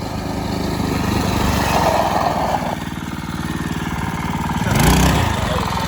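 A Coleman BT200X minibike's small engine idles high with a steady, close putter, briefly rising in pitch and loudness near the end.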